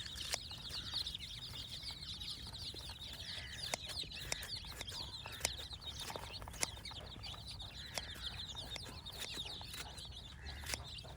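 Chickens and small chicks clucking and peeping softly while feeding in a farmyard enclosure, a steady chorus of faint calls with occasional sharper pecks and taps.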